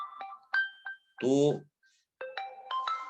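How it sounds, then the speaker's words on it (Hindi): A phone rings with an incoming call partway through a chemistry lecture, its tonal ringtone rising clearly in one burst between a teacher's spoken remarks. "फोन आ रहा है, कॉल कर लूं।"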